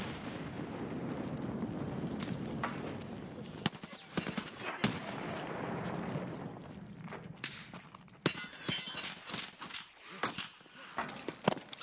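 Heavy exchanges of gunfire in Escape From Tarkov, with bursts of automatic shots and single cracks, some near and some distant, broken by footsteps and brief quiet gaps, with no speech.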